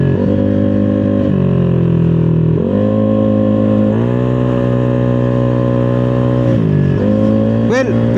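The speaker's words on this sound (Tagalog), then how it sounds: "Yan, birit konti." A car engine revs lightly a few times, rising and falling in steady pitch steps, loud and close, with no other sounds over it.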